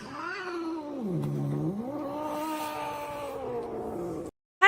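A cat caterwauls in one long, close, wavering yowl that rises and falls in pitch for about four seconds, then stops abruptly.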